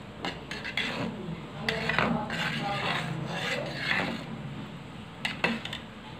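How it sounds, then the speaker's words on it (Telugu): A spoon scrapes and clatters against a bowl as boiled, cooled milk is stirred into a batter, irregular clinks and rubbing strokes close by, with a few sharper knocks near the end. "పాలను కూడా యాడ్ చేసుకొని బాగా కలిపేసుకోండి"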